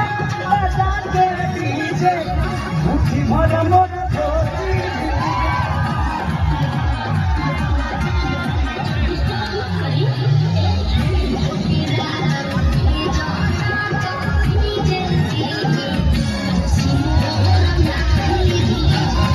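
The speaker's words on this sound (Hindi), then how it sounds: "इतनी इतनी भीड़, लाखों लोग होंगे यहाँ पे" A massive outdoor crowd packs a Bhojpuri stage show in Kaimur, its roar of cheering, yelling and children's shouts steady and loud throughout, with dense babble layered over it.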